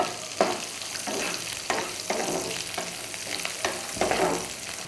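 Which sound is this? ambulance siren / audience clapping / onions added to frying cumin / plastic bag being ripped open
onions added to frying cumin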